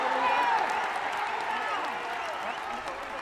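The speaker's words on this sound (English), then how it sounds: "Silva gets back onto his feet to the cheering of the entire Isipathana spectators." Schools rugby league spectators, the Isipathana crowd, cheering and applauding in a steady, continuous roar throughout, with a commentator's voice over the top.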